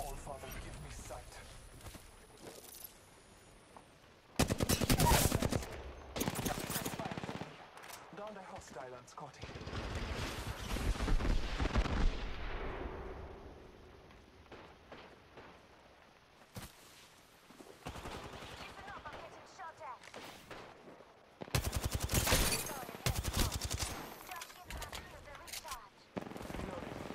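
Heavy video-game gunfire erupts in loud bursts of rapid shots, separated by quieter stretches, with a voice talking between volleys.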